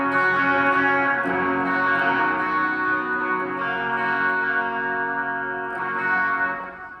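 Electric guitar played through a fuzz pedal and eased back with a volume pedal, sustained chords ringing with a rich, slightly cleaned-up gritty tone that swells and fades, with no voices.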